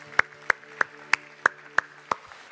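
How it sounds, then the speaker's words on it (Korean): Congregation at a Korean church Christmas service clapping in unison: seven sharp, evenly spaced claps over a steady low hum. "우리 주님 앞에 감사 영광의 박수 올려드립니다"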